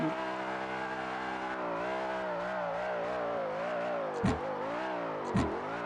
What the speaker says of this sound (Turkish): Size bir burnout vereyim